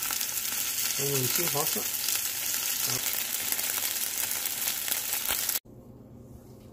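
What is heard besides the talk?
chicken slices frying in vegetable oil in a pan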